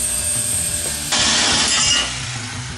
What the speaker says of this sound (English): we proceed to cutting the tube using a cut insert on a hand drill